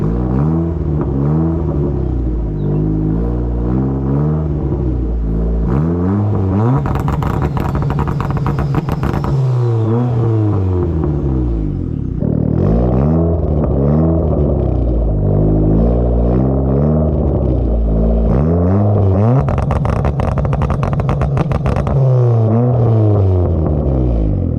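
A tuned car engine with rolling antilag and extra fuel enrichment revs hard and repeatedly, rising and falling with loud crackling pops throughout. It is close and continuous, with no talking.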